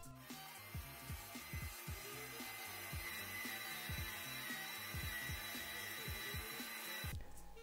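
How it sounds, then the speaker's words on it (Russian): An electric meat grinder grinding sprouted wheat: a continuous motor whir with a rhythmic churning, grinding pulse underneath, running steadily before cutting off near the end. "Сейчас я их буду перемалывать в обычной электрической мясорубке."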